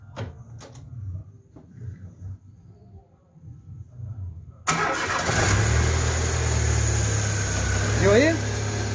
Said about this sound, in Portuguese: ele vai dar uma partida, tá, no carro